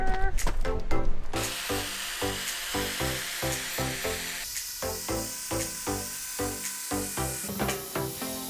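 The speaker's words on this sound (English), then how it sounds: "hopefully you can hear me over the grinder" A power grinder works on a sailboat rudder in a workshop, giving a loud, steady, hissing whine with a regular pulsing rhythm, close up, and a voice speaking over it.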